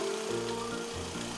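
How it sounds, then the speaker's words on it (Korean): Electric grinder milling soaked mung beans and soybeans into bindaetteok batter, a low motor whine with shifting pitch as the load changes, steady and fairly quiet. "부드럽게 갈아서 반죽의 베이스부터 만들어주고요"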